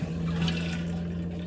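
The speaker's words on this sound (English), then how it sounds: "it flushes." A Sealand 510 RV toilet flushes, a brief steady rush of water with a low hum underneath, close and alone.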